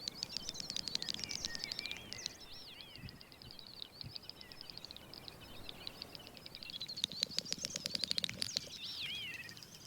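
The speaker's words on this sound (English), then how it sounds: "It's the courtship song of the great snipe." Courtship song of the great snipe at dusk on open moorland, a fast stream of high clicking, bubbling and twittering notes in two outbursts, fairly distant against steady background hiss.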